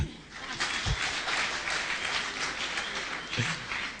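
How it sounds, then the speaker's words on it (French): Audience applause during a college presentation, a sustained round of clapping from a crowd with a few louder low thumps standing out near the start and end, no talking over it. "Les célibataires, vous pouvez applaudir."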